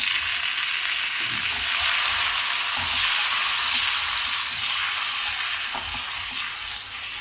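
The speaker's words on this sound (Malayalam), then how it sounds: "മുളകൊക്കെ നന്നായിട്ട് മൂത്തു നമുക്ക് തക്കാളി ഇട്ട് കൊടുക്കാം" Tomatoes tossed into a pan of deeply fried red chillies for a chutney, giving a loud, continuous sizzle and spatter with occasional stirring scrapes, no voices.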